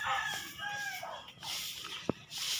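Chickens cluck and a rooster crows nearby, a few calls overlapping in a short outdoor farmyard stretch.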